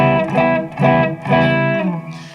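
An electric guitar plays a chord voicing with an added ninth and a major third. Three rich, sustained strums sound close and clear, with a slight distorted edge, and the last one rings out and fades.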